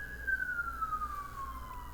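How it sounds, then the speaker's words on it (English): An ambulance siren wails outside at a steady moderate level, its single tone sliding slowly downward as it passes, over a low background hum. "I got a little ambulance down in the running."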